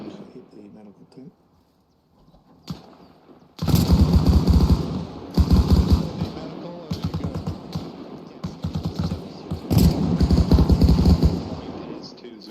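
Rapid bursts of gunfire during a military field training exercise, loud automatic volleys breaking out in several repeated strings after a quiet opening, with people talking over the shooting.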